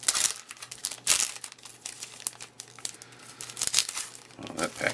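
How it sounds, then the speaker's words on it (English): A foil baseball card pack wrapper is ripped and shredded open, giving close, loud crinkling and tearing bursts in irregular bunches. "Well, that pack didn't open up very well. I just shredded that."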